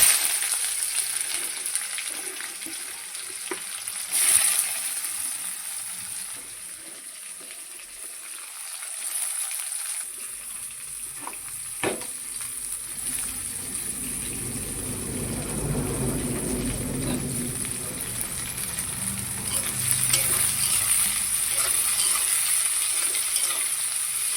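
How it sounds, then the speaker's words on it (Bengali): Onions fry in hot oil after whole spices go in, giving a steady close sizzle that grows fuller and louder partway through, with occasional stirring scrapes and no talk. "পেঁয়াজটা এরকম ভাজা হোক।"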